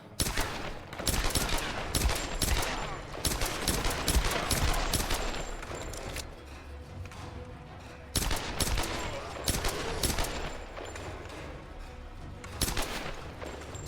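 Gunfire from the 2013 Tomb Raider video game rattles in dense repeated bursts and rapid volleys, loud and close, with short lulls between exchanges.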